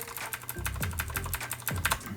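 Keys on a James Donkey 612 mechanical LED keyboard clack in quick, uneven presses, close and crisp, with no talking over them.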